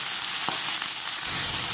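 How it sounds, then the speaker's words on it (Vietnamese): Pork sizzles as it is stir-fried and dry-roasted in a pan, a steady hiss with a few light stirring clicks, close and alone. "Bây giờ mình sẽ cho thịt vào để mình rang lên."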